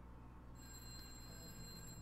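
A telephone rings in the video game A Way Out, a thin electronic trill that starts partway through and holds steady, fairly faint over a low ambient hum.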